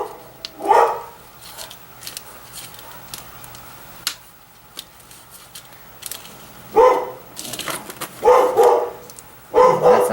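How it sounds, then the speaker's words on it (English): A dog barks in several short bursts with quiet gaps between them, sharp and fairly close, against a faint background. "Sounds like a "you better get away from my yard" type bark."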